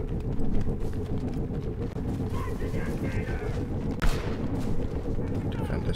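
A grenade blast goes off in Star Wars Battlefront II amid dense in-game gunfire and rumbling explosions, with a sharp boom near the middle and a player talking over the battle.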